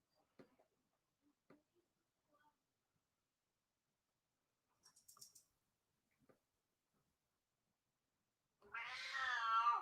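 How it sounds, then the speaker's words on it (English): A pet cat lets out one drawn-out, rising meow near the end, fairly close and loud after a mostly quiet stretch broken only by faint scattered clicks and taps. "Cat 2 is bugging out in the background."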